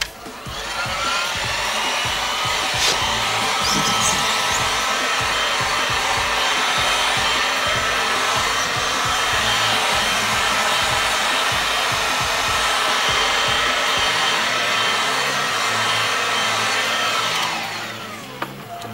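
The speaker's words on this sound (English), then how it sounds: "just take your heat gun" A heat gun warms a surface before a pour-painting job, giving off a loud, steady whooshing whir up close. It runs without a break for about seventeen seconds, then cuts off, with no voices.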